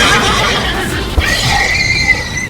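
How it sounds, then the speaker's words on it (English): A horse neighs in the video game Elden Ring Nightreign, a loud, close, shrill whinny with a wavering pitch, heard alone with brief thuds beneath it. "I did get jumped by horses though."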